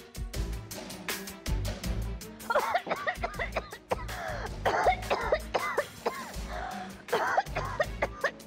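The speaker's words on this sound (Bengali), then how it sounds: "ঠিক সময় কাশিটা দিয়েছে" Someone in a Bengali television drama scene coughs repeatedly, a series of sharp, close coughs and throat-clearing sounds mixed with brief chuckle-like breaths over a faint background.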